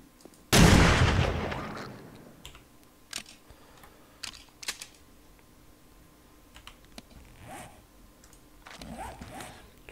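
A single sharp gunshot from the video game 7 Days to Die cracks loudly and decays quickly, followed by faint scattered clicks and footsteps in a quiet scene.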